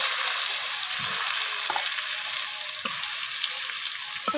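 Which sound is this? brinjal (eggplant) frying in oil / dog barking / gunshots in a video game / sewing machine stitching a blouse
brinjal (eggplant) frying in oil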